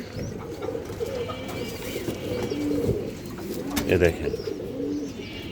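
Kashmiri racer pigeons in a farm loft coo in low, throaty calls that recur through the clip, with someone speaking briefly over them.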